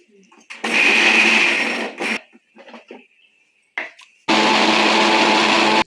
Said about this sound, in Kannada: ಇದನ್ನ ಅರ್ಜೆಂಟ್ ಮಿಕ್ಸಿ ಮಾಡ್ಕೊಡು